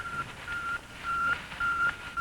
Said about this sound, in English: The beeps of the Earth's satellites circling the Earth.